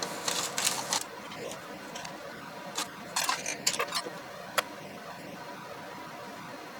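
Small metal set screws clatter and tick as a hand rummages through a box of them, a run of sharp, uneven clicks and rattles close by, with scattered pauses and a faint background voice.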